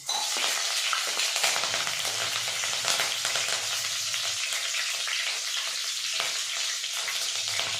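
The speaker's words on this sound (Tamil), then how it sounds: "இப்போ கருகாப்பிலும் பச்சை மிளகாயும் போட்டுக்கலாம்" Curry leaves and green chilies crackle and sizzle loudly in hot oil for dried fish thokku, a dense, steady frying hiss with constant spitting pops and no talking.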